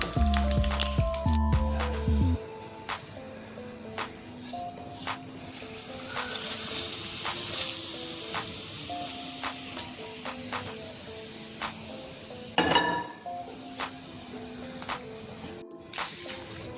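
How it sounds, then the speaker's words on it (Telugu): Hot tempering of mustard seeds and dried red chillies poured into coconut chutney, giving a steady close sizzle and hiss with light crackles that fade gradually, no voices. "ఈ తాలింపు అంతా మనము పచ్చడిలో వేసుకుందామండి."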